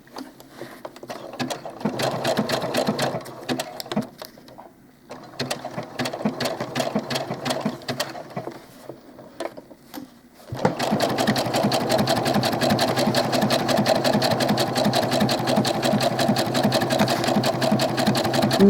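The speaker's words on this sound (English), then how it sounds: "let's move to the machine and sew this seam" Sewing machine running a center front seam on doll clothes, a rapid mechanical clatter that starts and stops in short runs, then settles into one long, louder, steady stitching run.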